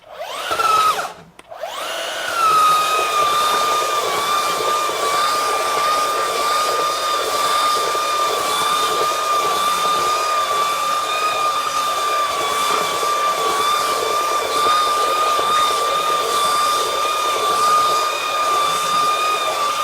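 A Kobalt 24V brushless belt sander (KBS124B-03) runs at speed 6 after a brief start-up clunk, holding a loud, steady high-pitched whine with a constant motor hum throughout.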